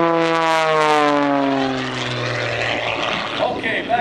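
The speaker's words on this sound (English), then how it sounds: "Look at this airplane. It was built for this kind of aerobatics." An aerobatic propeller airplane at an airshow roars overhead, its engine note sliding downward in pitch as it passes by and fades off.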